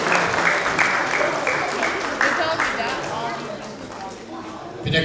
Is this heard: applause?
yes